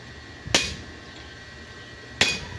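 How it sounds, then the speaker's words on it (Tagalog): Two sharp metal hammer blows, well apart, strike to knock a broken bearing off the threaded crankshaft end of a boat diesel engine, close and loud against a low steady background. "ito lang yung pinupukpuk lang para matanggal yung sirang bearing o palitan"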